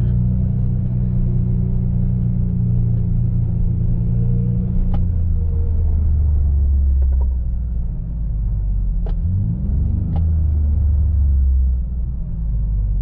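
A four-wheel drive truck on a farm rolling downhill in low range, with a steady low engine rumble close by and a brief shift in engine pitch partway through.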